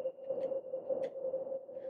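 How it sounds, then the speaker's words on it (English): White noise from a synthesizer runs through a resonant filter, producing a steady pitched whistle-like tone with faint soft clicks around it, sustained at moderate level. "it's just white noise."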